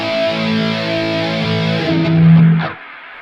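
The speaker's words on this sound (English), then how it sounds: "We've got a delay with a distortion and delay." Sustained electric guitar chord run through Bias FX 2 with distortion and delay, loud and thick, ringing steadily before a brief swell and an abrupt cutoff into silence.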